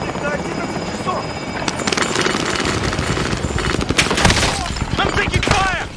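Call of Duty Warzone gameplay with a helicopter's loud steady rotor drone and scattered bursts of gunfire mixed in, loud and continuous, with voices talking over it.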